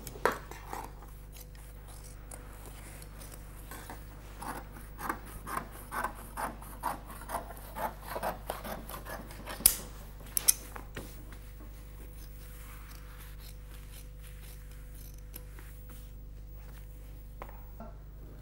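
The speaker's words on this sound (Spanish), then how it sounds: "Hay que cortar el pelo dejándolo en escaleras para que agarre la pez." Hair is cut off a leather hide for making wine skins, giving a quiet series of close, rhythmic scraping and snipping strokes that cluster mid-clip and then fade into near silence.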